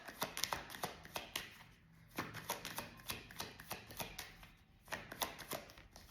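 A deck of tarot cards shuffled by hand, a string of quick riffling flutters in a steady rhythm with brief pauses, close and fairly quiet.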